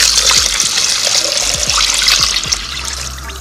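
Water pours steadily into an Instant Pot for a black bean and veggie stew, a close, continuous splashing stream with no voices over it.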